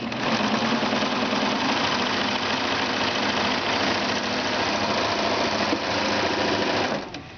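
Serger stitching knit quilt strips, a steady, loud, close-up mechanical whir running continuously for about seven seconds before winding down.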